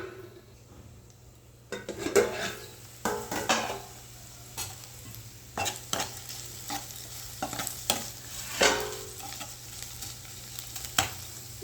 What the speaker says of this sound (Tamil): இன்னும் கொஞ்சம் நல்லா வதங்கட்டும் பாருங்க நல்லா வதங்கிக்கிட்டு இருக்கு